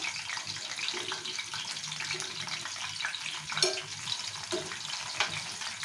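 Soya chunks and rice fry in hot oil in a pan, giving a steady, close sizzle with scraping and stirring throughout; no one talks.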